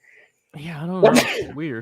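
A single sharp sneeze bursts out in the middle of casual talk during a live chat show, loud and close, with a speaking voice continuing around it.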